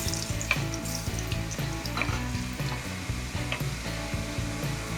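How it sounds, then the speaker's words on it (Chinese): Potatoes deep-fry in hot oil in a curry kitchen, a steady close sizzle and crackle that runs throughout with no talking. "现在油烧了，我们可以炸土豆了。"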